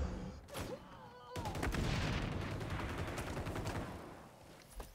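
Rapid bursts of rifle fire from a video game SVD match, loud cracks crowding together over a few seconds, with a brief sharp shot near the end.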